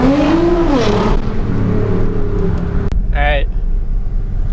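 A modded Nissan GTR revs and accelerates inside a tunnel, its engine note climbing loudly and echoing before dropping off, with voices speaking over the roar.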